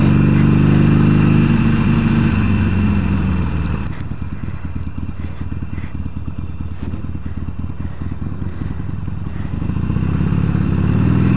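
A Harley motorcycle engine runs loud and close, a steady throbbing idle with revs rising and falling and a mechanical clatter underneath, with no talk over it.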